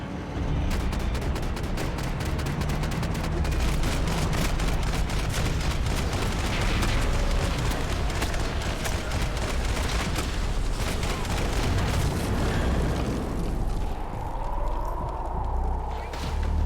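Sustained rapid gunfire in Max Payne 3, loud dense bursts of shots rattling almost continuously, mixed with shouting voices and battle noise.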